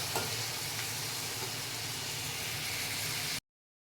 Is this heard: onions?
yes